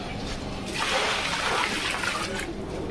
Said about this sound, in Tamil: தண்ணி வந்து தேவையான அளவு ஊற்றிக்கிங்க